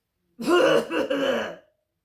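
A single throaty cough, voiced and short, made by someone imitating the sound, close and clear against silence.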